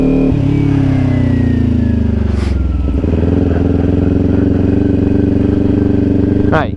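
A Kawasaki Ninja 400 motorcycle engine runs loud and close, holding a steady drone that eases and then builds again as a beginner rider accelerates, with a clatter near the end.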